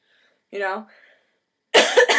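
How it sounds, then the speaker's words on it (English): Two harsh coughs a second apart, close and loud, with a brief throaty rasp after the first. "Sorry, coughing."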